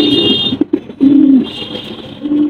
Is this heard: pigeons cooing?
yes